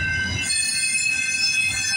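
Canadian Pacific freight train wheels squeal on the Galt Subdivision at Guelph Line, mile 38, late at night: sustained high-pitched metallic screeching with steady rolling rumble underneath, loud and close for the whole stretch.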